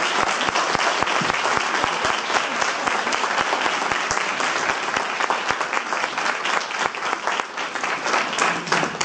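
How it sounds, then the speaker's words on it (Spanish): Dense, steady audience applause follows a talk on altered states of consciousness, with many hands clapping at once throughout, loud and continuous without a break. "Bueno, pues un fortísimo aplauso para Jaume Mercedes"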